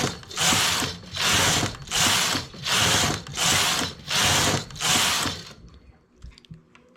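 A domestic knitting machine carriage is pushed back and forth across the needle bed for ten rows, making seven rhythmic mechanical ratcheting passes, each about a second long, before falling quiet.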